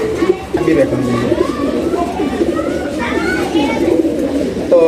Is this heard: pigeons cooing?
yes